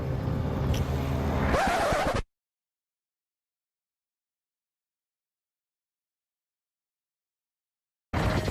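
A motorbike runs on the road to Vang Vieng, its engine and wind roar loud and close for about two seconds. Then everything drops to total silence, and the engine and wind return briefly at the very end.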